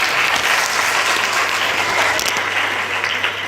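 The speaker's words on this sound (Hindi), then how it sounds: "आपके खुद के लिए ताली बजा लीजिए" An audience at a Hindi-language talk applauding, a loud, sustained burst of many hands clapping together at an even, continuous intensity.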